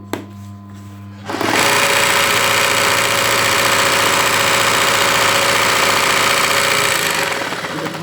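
An embroidery sewing machine stitches a flower in purple thread, its loud fast steady mechanical chatter kicking in after a quiet second and running continuously to the end, with no talk.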